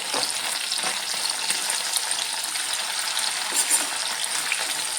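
Anchovies (natholi) sizzle steadily in hot oil in a pan and are turned over, with light scrapes and clinks over the constant bright frying hiss.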